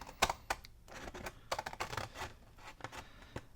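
Scissors make a quick series of crisp, irregular snips and clicks while cutting down a score line on a cardboard file folder, close and fairly quiet, with no voices.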